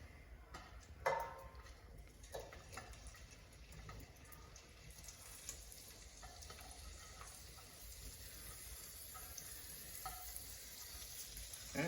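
Potatoes frying in bacon fat in a pan, a faint steady sizzle with a few soft clinks and stirring touches.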